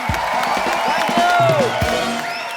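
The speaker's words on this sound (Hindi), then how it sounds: "एक बार मिस्टर अरशद वारसी और मरिया के लिए जोरदार तालियां।" A studio audience at a comedy show applauds and cheers, a dense wash of clapping with whoops and a faint voice mixed in, filling the room throughout.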